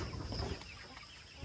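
A Rhode Island Red hen gives low, soft clucks close by over a dense background of farmyard noise, short and faint.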